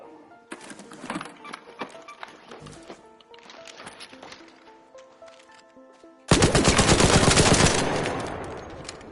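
Rattler assault rifle in the game Arc Raiders firing in several clattering bursts of rapid shots, then a loud, dense, sustained burst of automatic fire that begins partway through and continues to the end.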